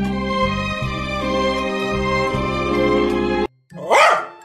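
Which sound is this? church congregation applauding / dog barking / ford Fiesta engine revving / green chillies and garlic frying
dog barking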